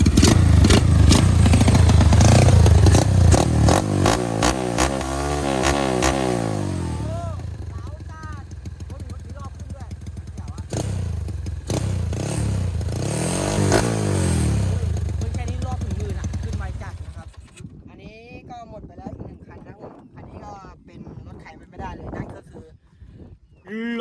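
A Honda Wave motorcycle engine starts and revs loudly up close, its sound rising and falling in uneven bursts before cutting to quieter clatter, with voices talking over it.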